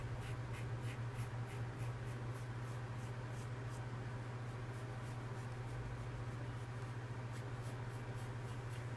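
A pencil lightly sketches an oval on paper, producing a faint continuous scratching with soft rhythmic strokes over a steady low hum, no voices.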